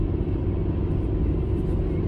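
A car drives along the road toward the office, a steady low engine and tyre rumble heard from inside the vehicle, continuous and even with no talking.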